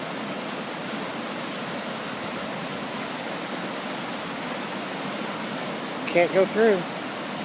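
Floodwater from an Easter storm in rural Douglas County, Missouri, roars steadily through a large tunnel culvert under a concrete slab and splashes over the top, a dense close rush of noise, with a voice briefly over it near the end.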